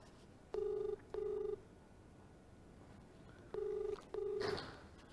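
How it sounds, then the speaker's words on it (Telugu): A phone rings on an outgoing call, with two pairs of clean, evenly spaced electronic ring tones separated by a pause over a faint background hiss. "లావణ్య ఫోన్ రింగ్ అవుతోంది."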